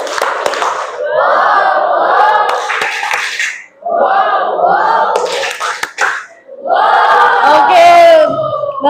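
A school class claps in rhythm and shouts "wow" together three times, each burst of loud group clapping and cheering separated by short pauses, in an Indonesian classroom.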